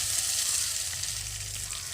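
Potatoes fry in hot oil as tomato goes into the pan, giving a close, steady sizzle and hiss with no talk.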